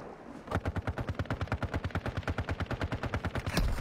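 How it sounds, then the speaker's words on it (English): Rapid automatic gunfire in a battle royale video game, a fast even burst of about thirty shots fired close and loud, with a heavier blast near the end. "I'm taking fire!"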